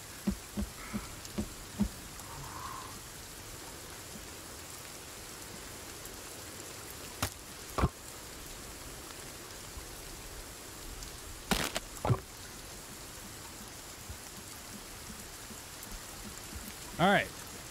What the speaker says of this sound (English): Of course, now it's raining, because that's all it does in this game is snow and rain.